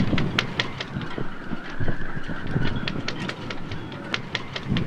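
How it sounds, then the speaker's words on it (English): Strong wind buffets and roars in uneven gusts through a boatyard, with sharp clicks and rattles scattered through it and no talking. "It's crazy windy right now."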